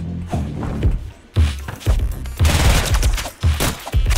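Rapid, loud gunfire from the video game Rounds comes in dense bursts of punchy shots with thumping low impacts, broken by brief pauses.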